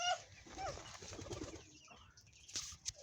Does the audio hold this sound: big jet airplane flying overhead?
no